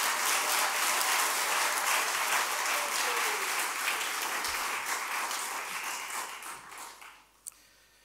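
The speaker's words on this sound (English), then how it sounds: "Let's give Professor Chinyamurinde a much bigger round of applause." At a university inaugural professorial lecture, an audience gives loud, sustained applause that holds steady, then thins and fades out over the last second, ending with a single faint tap.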